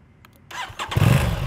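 An Aprilia RS 660 sport motorcycle engine cranks and catches, then roars into a loud, rumbling idle close by.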